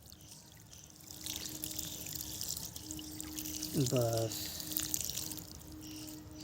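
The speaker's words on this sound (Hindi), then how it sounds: "देखिए हमने पानी लिया" Water is poured gently from a container onto the potting soil of an adenium plant, giving a soft, continuous trickle that stays fairly quiet. A brief word is spoken over it.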